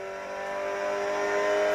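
A racing car in a smartphone video game revs and accelerates, its engine tone climbing steadily and growing louder over a couple of seconds, heard alone without talk.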